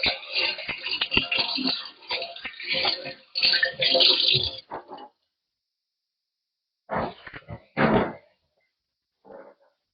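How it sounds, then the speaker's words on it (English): Hands being washed under a running kitchen tap while baking keto blueberry muffins, several seconds of splashing water that stops abruptly, followed by a few short bursts of splashing and a faint final drip or rinse. "Wash my hands real quick."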